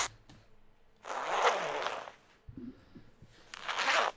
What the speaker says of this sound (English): It's big sack. It's big zipper.